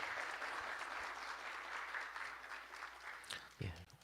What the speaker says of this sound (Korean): 박수로 축하해 주시면 고맙겠습니다.